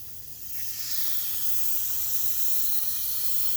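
Gaahleri Mobius 0.2 airbrush sprays paint on air from a compressor set at 30 psi, a steady, close, breathy hiss that swells in the first second and then holds level.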